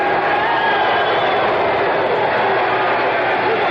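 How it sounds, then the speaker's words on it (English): Steady, loud arena crowd noise from a Knicks–Jazz basketball game, a continuous roar of disapproval after a punching foul call, with no break across the few seconds. "Crowd doesn't like this."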